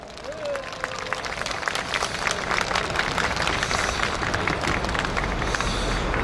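A crowd at an outdoor first-anniversary memorial for the Sewol ferry disaster in Daejeon breaks into applause that builds quickly and holds as steady, dense clapping from a large gathering.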